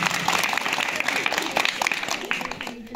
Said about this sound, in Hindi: बरखा और उसकी साथियों के लिए जोरदार तालियां हो जाएंगी